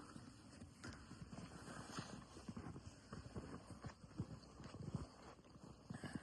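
Hooves of a heavy draft mare clip-clop in a quick, uneven rhythm of faint, close knocks over a soft background, with no voices.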